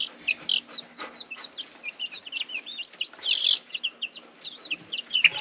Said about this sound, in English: Chicks are getting so big.